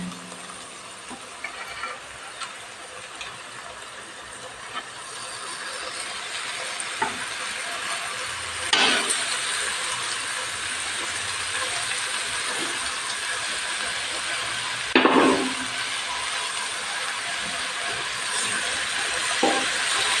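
Agathi (sesbania) flowers dropped into a hot pan over a low simmer flame for a poriyal stir-fry give a steady close sizzling hiss, broken by a couple of brief louder spurts.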